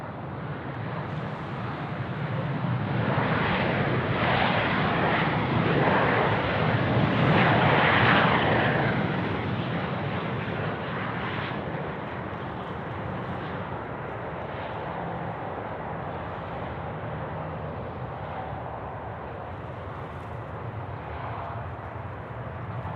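Airliner on the runway at Sydney Airport, runway 34 right, a broad, steady engine roar and rush that swells and stays loud throughout, with no voices.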